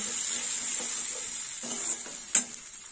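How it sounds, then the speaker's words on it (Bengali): Ground spice paste sizzles with lightly fried onion in a pan for a fish-head and bottle gourd curry, a steady frying hiss broken by a few scraping stirs and one sharp clink near the end. "মশলাটা দিয়ে কষে নেব।"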